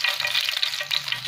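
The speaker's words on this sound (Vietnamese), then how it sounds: "Đấy, mình phải chiên sơ thôi mọi người ạ" Fish sizzling as it fries in hot pork fat for a carp riêu dish, a steady close hissing crackle with no talk over it.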